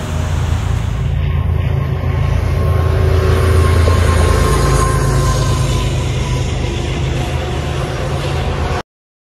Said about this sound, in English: I see a train!